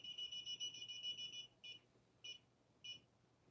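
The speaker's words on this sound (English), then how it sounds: "that's my phone going off" A mobile phone alarm sounds at a ghost hunt inside a cryptozoology and paranormal museum: a loud, fast, high electronic beeping for about a second and a half, then three shorter bursts at steady intervals, with no talk.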